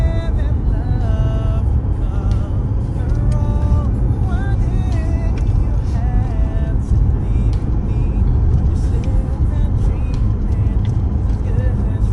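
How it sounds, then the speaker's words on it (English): Car interior on a drive, a steady low engine and road rumble running throughout, with people talking over it at times. "This is a nice car."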